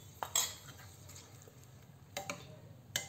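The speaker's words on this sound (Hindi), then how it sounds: "अब इस छौकन को हम दही में डालकर मिला देंगे" A spoon stirs hot chilli tempering into yogurt in a bowl, giving a few faint, sparse metallic clinks and scrapes in an otherwise quiet kitchen.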